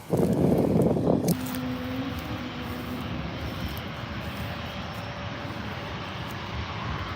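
An Air New Zealand airliner taxis toward the gate, a loud engine roar at first dropping to a steady distant whine and rumble that holds under a constant airport background.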